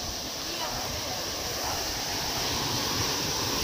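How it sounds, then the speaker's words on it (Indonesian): Large ocean waves wash onto the east beach at Pangandaran at sunrise, a continuous broad roar of surf with some wind noise and no clear breaks between waves. "Semua ombaknya ini agak lumayan gede."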